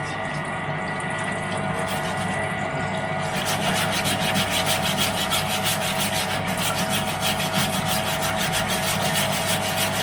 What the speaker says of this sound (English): Turn on the pump. It's a little bit noisy, but let's see.